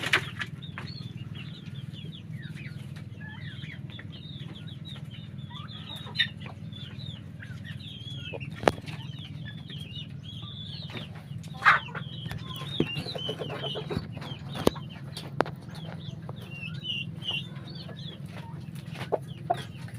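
Domestic chickens clucking continuously during feeding, with the calls spread across the clip at moderate distance, plus occasional sharp knocks and bursts of wing flapping over a steady low background hum.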